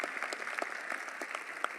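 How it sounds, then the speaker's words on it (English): Applause at a sports hall of fame banquet honoring athletes and scholarship winners, a moderate crowd clapping with individual claps distinct, steady and fairly close. "Let's give all these athletes another round of applause and the scholarship winners."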